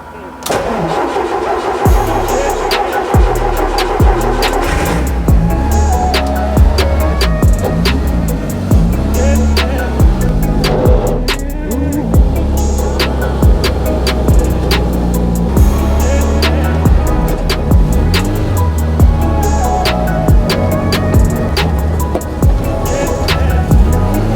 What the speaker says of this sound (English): I'm gonna try to go for a test drive anyway and be very careful when turning.